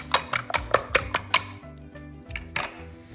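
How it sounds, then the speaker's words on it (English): Eggs being whisked in a bowl for brownies, giving a quick burst of sharp metallic clinks against the bowl, then a pause and a few more taps, close and clear with no talking. "So whisk up your eggs."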